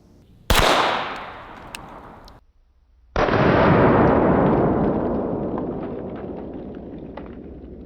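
A single booming .50 BMG shot from a handgun, fired at a kettlebell outdoors, with a sharp crack followed by a long rumbling echo, then a second loud, sustained roar that fades slowly.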